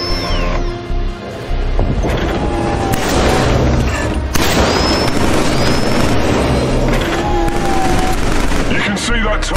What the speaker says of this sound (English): Try shooting those fire targets in the range.